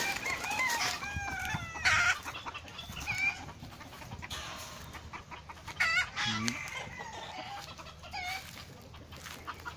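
An F1 hybrid junglefowl chicken clucks and calls in short, fairly close bursts, with several sharp clucks spread across the clip and only faint, brief voice underneath.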